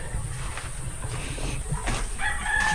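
A hen clucks in short calls while laying eggs in a farmyard, with steady background noise and a faint higher call near the end.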